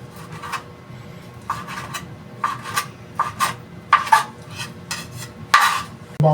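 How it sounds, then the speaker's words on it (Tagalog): Knife slicing meat thinly for chop suey, a series of short crisp cutting strokes on a board, irregularly spaced, close and fairly loud against a quiet kitchen background. "Kuhain ko muna tong karne para maninipis."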